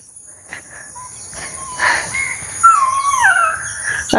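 Puppies crying, a run of thin high whimpers and rising whines that grow louder and more insistent toward the end, with a steady high electronic whine running underneath.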